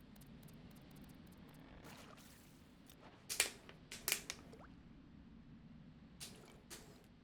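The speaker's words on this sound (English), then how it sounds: "Sorry for the sound of my water bottle." A water bottle is handled close by, giving a few faint, sharp crinkles and squishes in short clusters over a quiet background hum.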